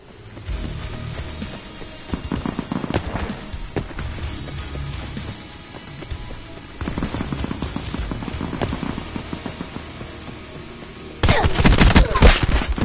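Rapid bursts of gunfire in a gun game match of a PS4 shooter, crackling in clustered volleys with brief lulls and a loud, dense burst near the end.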